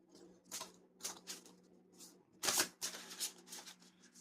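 A deck of cards being shuffled in several quick riffling bursts, close up, with brief pauses between them.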